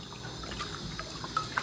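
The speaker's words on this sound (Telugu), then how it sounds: "కొంచెమే నీళ్ళు పోయాలన్నమాట." Water is poured into a pressure cooker holding amaranth leaves, making a steady close trickle and gurgle with a couple of small splashes near the end.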